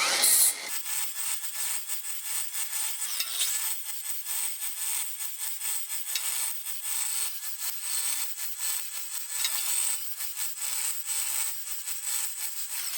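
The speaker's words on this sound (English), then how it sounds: "Just clean the edges up real quick with a flap wheel." A flap wheel grinds across freshly cut metal edges in a workshop, giving a high, bright abrasive whir with rubbing scrapes as the wheel is pressed and moved, close and continuous without pause.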